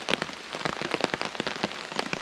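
Heavy Welsh rain in rough weather beats on a tarp overhead in dense, uneven pattering taps, close and continuous.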